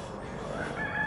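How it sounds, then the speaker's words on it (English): A rooster on a farm gives a short crowing call under a steady hum of ambient farmyard noise, fairly close but not loud, and brief. "here is another rooster"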